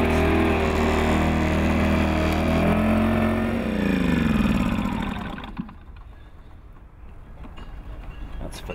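A petrol generator aboard a moored boat runs with a steady loud mechanical drone, then winds down and drops to a quieter hum with light rattling in the last few seconds.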